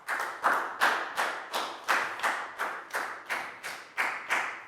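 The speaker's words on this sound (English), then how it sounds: "a big round of applause for Pat" A primary school class claps together for a classmate named Pat in a health education lesson, about a dozen evenly spaced group claps in a steady rhythm, moderately loud and close, with no talking.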